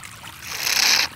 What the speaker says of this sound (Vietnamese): Nghe tiếng suối chảy